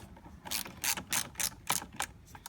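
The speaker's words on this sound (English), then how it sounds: "And a 10mm socket for the terminals. Start off with the negative. You're gonna unscrew this here." Ratchet with a 10mm socket unscrewing the negative battery terminal on a 2008 Volkswagen City Golf, seven or eight quick, close clicking ratchet bursts in an uneven rhythm, no talking.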